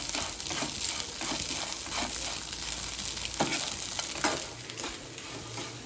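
An egg and potato fry is tossed together in a hot pan. Steady sizzling carries repeated scraping and clinking stirs, close up, with no talking.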